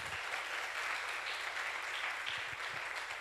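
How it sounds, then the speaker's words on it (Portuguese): A church congregation applauds during a sermon, with steady, dense clapping heard from a distance and quite faint, continuing evenly throughout alongside a few low thumps. "Dê um aplauso ao Senhor por isso."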